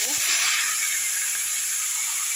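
Green jackfruit pieces tipped into a generous amount of hot oil in a wok set off a steady, bright sizzle that holds loud and even throughout, with a few soft clinks at the start.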